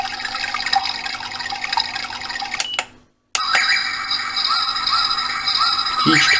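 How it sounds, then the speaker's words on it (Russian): Water-sound melody played by a black USB desktop mini aquarium clock with organizer: a steady trickling, bubbling stream with faint chimes, broken by a brief drop to silence midway before the flowing water resumes. "Звук водички."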